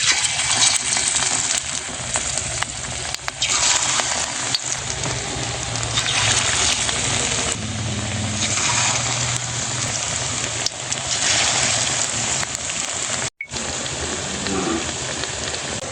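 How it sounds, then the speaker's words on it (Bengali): Mustard flower fritters frying in hot oil, a dense continuous sizzle and crackle heard close up for the whole stretch, with a brief break near the end and no talking. "তেল গরম হয়ে গেছে, এবার সরিষা ফুলে বড়াগুলো দিয়ে দেব।"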